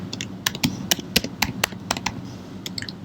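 Quick, crisp taps on a computer keyboard come in an uneven run of sharp clicks, close and clear over a faint background hum, with no talking.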